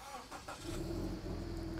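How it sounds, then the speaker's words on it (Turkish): A 2012 Toyota GT 86 engine cranks briefly and catches, settling into a steady low idle hum, heard up close and fairly quiet. "Şöyle aracı çalıştırayım."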